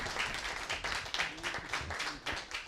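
Steady applause from an audience, dense overlapping claps filling the room with a few louder bursts, no talking.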